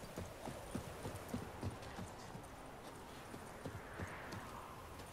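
Horse hooves clip-clop at a steady walk in The Witcher 3 video game, quiet rhythmic knocks over a faint ambient background.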